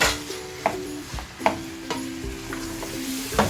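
A utensil scrapes and knocks against a pan while stirring green beans with grated coconut over a high flame, a few distinct taps over a steady soft sizzle, with no talking.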